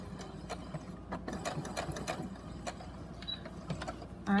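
A sewing machine stitching down the fabric edge of a drawstring bag, bursts of rapid mechanical whirring and ticking at close range, ending with a short louder clunk.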